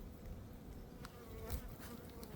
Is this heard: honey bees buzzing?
yes